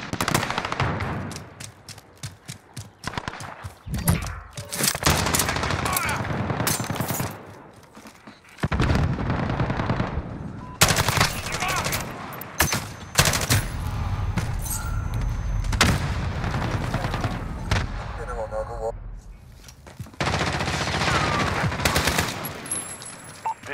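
Light machine gun fire in a video game, heard as loud, sustained automatic bursts with short pauses between them, backed by scattered explosions and gunfire across the whole stretch.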